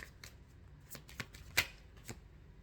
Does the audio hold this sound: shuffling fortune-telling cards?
yes